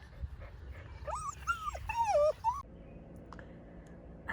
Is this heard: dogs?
yes